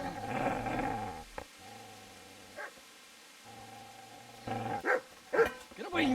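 A dog in Kingdom Come: Deliverance barks and growls in short bursts, with a low steady hum between barks and a sharper cluster of barks near the end.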